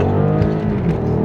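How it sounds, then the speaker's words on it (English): A BMW M550 accelerates hard in first gear from low speed, its engine roaring loud and close with a steady rising drone. "we're gonna do a little first gear pull ski here"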